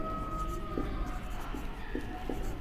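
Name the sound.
writing on a board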